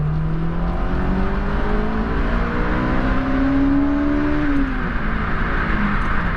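A Honda S2000 2.0 roadster engine revs up toward 9,000 rpm, its pitch climbing in smooth rising sweeps, then dropping back, loud and close, with no talk.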